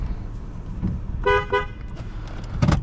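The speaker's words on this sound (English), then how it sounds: "Horn is nice and loud." Horn of a 2006 Subaru B9 Tribeca honked twice in quick succession, loud and fairly near, over steady low engine and road rumble, with a brief clunk at the end.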